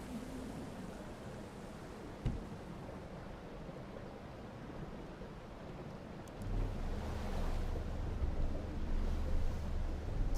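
Ocean waves roll in the video game Outer Wilds as a low, steady wash of surf with windy noise, swelling louder and heavier toward the end.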